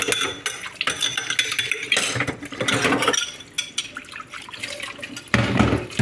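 Dishes, bowls and cutlery being washed under running water in a home kitchen, with bursts of splashing and pouring, clinks of plates and utensils, and short pauses between rinses, close and fairly loud.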